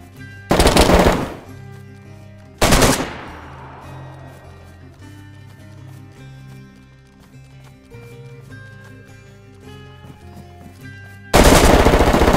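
Loud bursts of rapid automatic gunfire from the video game DayZ, three separate volleys of a second or so each, with quieter in-game ambience between them and no talking.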